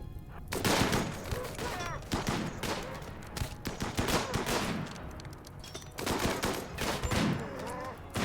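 Gunfire from snipers and other weapons in the RimWorld video game, dense bursts of rapid shots and blasts packed together with brief lulls, loud and continuous.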